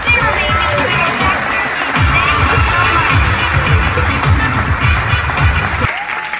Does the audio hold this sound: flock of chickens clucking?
no